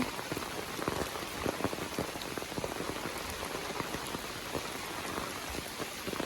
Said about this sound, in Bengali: এই যে অনেক বৃষ্টি হচ্ছে